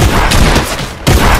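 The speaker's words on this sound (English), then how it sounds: "I got a shotgun to fight back with." Video game shotgun fire comes as a dense, loud, rapid burst of booming shots over about a second and a half, with a brief dip before another blast.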